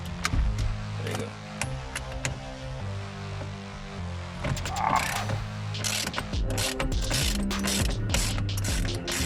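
A ratchet wrench loosens the steering wheel nut on a modified Ford Figo during a quick release and OMP steering wheel install, with a steady run of close, rhythmic clicks broken by brief clanks and pauses.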